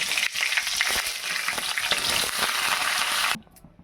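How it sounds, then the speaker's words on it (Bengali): Cauliflower pieces fry in hot oil tempered with cumin seeds, a loud, continuous crackling sizzle with occasional stirring, which cuts off abruptly near the end. "প্রথমে আমি ফুলকপিগুলো দিয়ে ভেজে নেব"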